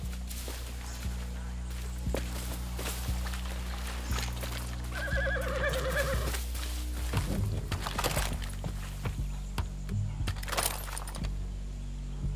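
Horses whinny and hooves clip-clop through the woods in the Far Cry 6 video game, with a neigh rising mid-clip over a steady low rumble of game ambience and scattered footsteps.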